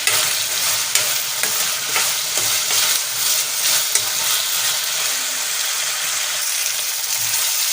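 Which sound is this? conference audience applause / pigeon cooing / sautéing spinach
sautéing spinach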